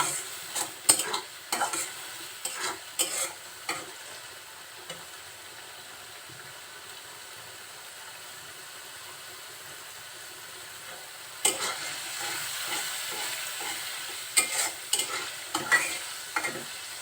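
A spice paste with coriander powder fries in oil for a fish roe bhuna, stirred with brisk clusters of spatula scrapes against the pan. A quieter stretch of low sizzle sits between the busy bursts.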